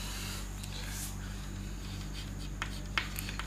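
Chalk or marker scratching on a board during a chemistry lesson on Dalton's atomic theory, a few soft strokes and taps over a steady low room hum, no talk.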